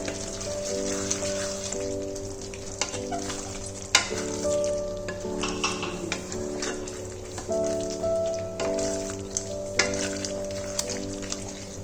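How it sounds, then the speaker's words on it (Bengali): Homemade garam masala being stirred into a raw jackfruit and prawn curry in the pan, with a soft, continuous sizzle, scraping strokes and occasional sharp knocks against a faint steady hum. "গরম মশলাটা দিয়ে ভালো করে এটার সাথে মিশিয়ে নেব আমি"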